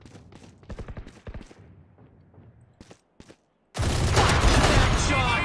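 Dense burst of gunfire from a gun in the Valorant shooting game, loud and continuous for the last couple of seconds after a stretch of sparse sharp clicks and taps.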